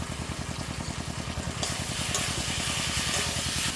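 Ground spice paste with Kashmiri chili powder fries in a pan, a dense sizzle over a steady rapid rhythmic thumping, the hiss swelling brighter partway through.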